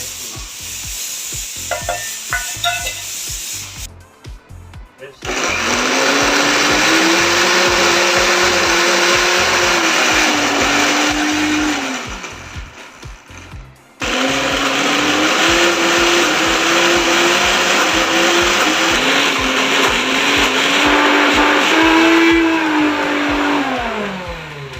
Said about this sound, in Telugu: మళ్ళీ మనం పచ్చడి మళ్ళీ కొద్దిగా గ్రైండ్ చేసుకుంటాం.